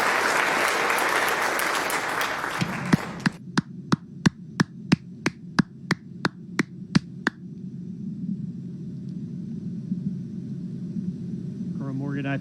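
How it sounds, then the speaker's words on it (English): Applause from an audience at a live event honoring military enlistees fills the opening seconds, followed by a run of about a dozen sharp, evenly spaced single claps, then fades into quiet room ambience. "Let's give an enormous round of applause to these great Americans"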